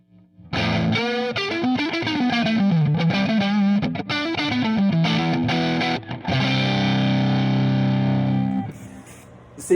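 Electric guitar through a Suhr Hombre amplifier in 5E3 mode, loud and gritty, with bending lead phrases, then a held chord that rings and fades out near the end.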